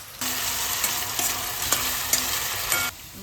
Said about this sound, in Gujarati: બટેટા થતા થોડી વાર લાગે એટલે સૌથી પહેલા બટેટા ફ્રાય કરી લઈશું.